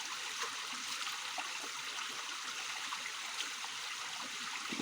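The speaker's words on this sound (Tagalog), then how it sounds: "Ipinakita ko lang po yung aking pinagkukuhanan ng tubig." Water runs steadily at a natural water source, a soft continuous trickle and gurgle heard close up with no talking.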